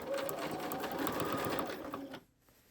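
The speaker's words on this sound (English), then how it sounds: "I am going to continue stitching right off the edge of the quilt and onto it." A sewing machine runs steadily, stitching binding along the edge of a quilt with a continuous close whir for about two seconds before stopping abruptly.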